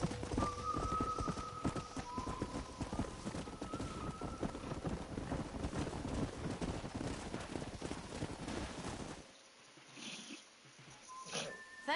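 Rapid, rhythmic hoofbeats of a stallion galloping in Red Dead Redemption, loud and steady, before the pounding fades into quieter ambience.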